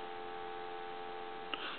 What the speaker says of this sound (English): Should have dial tone.